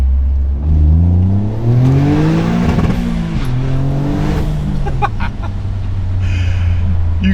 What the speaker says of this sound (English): What we need to do, which I didn't do on the way down before, is an exhaust test. Let's do one flat out